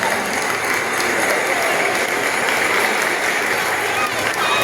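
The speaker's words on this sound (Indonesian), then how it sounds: "Hadirin dan hadirat, kita berikan tepuk tangan untuk semua peserta." An audience at a school arts performance gives the contestants a dense, continuous round of applause, loud and close throughout, with crowd noise blended in.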